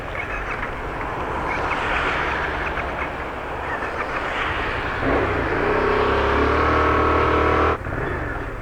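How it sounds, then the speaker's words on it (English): A Yamaha MT-07 motorcycle engine cranks slowly for several seconds, then catches and settles into a steady, loud, close idle with a deep low rumble. "This is a slow cranking engine apparently."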